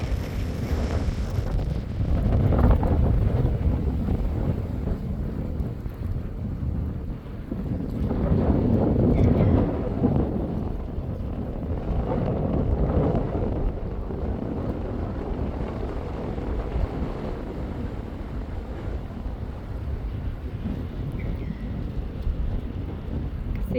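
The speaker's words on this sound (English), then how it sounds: "It's a bit windy today," Steady wind buffeting the microphone beside a seasonal creek by the Klamath River in January, a low rumbling roar that swells and fades throughout, with no clear voices above it.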